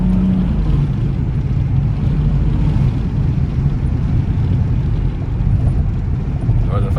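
A BMW M235i drives through Johannesburg traffic, its engine and intake giving a loud, steady low rumble with road noise throughout the whole clip. Faint voices show now and then under the sound.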